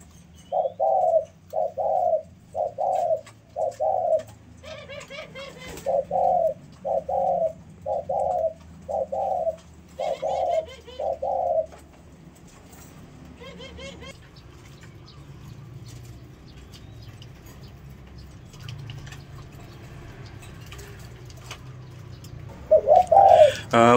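A spotted dove coos in a steady series of soft, repeated notes, about a dozen in a row, then falls quiet before one more call near the end.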